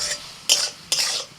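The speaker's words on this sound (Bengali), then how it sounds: "আর একটুখানি নাড়াচাড়া করে মাশরুমটা ভেজে নেব" Mushrooms stirred and fried in a pan, two distinct scraping strokes of a spatula over a steady hiss of frying, close and fairly loud.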